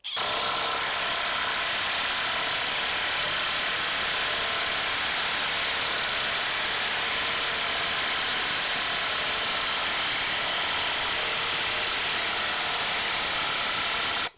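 Bosch 1800C impact driver pounding a 3/8-inch, 8-inch-long fastener through, giving a steady, loud, unbroken whirring hammer rattle that holds for the whole stretch with no pauses or talk.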